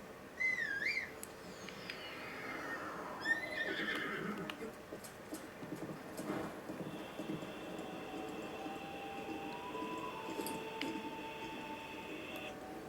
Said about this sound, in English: So we're going to go ahead and call our horse.